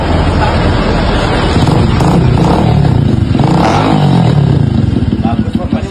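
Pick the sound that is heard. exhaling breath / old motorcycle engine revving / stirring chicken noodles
old motorcycle engine revving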